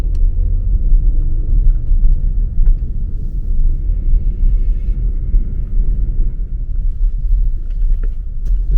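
Car driving through the small town of Hickman, Kentucky, heard from inside as a steady low engine and road rumble, continuous and even, with no talking.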